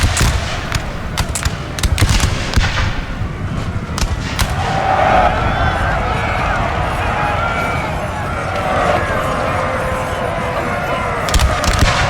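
Musket volleys and artillery in Napoleon: Total War crackle and thump continuously, a loud, dense battlefield din of scattered sharp shots over a rumbling bed.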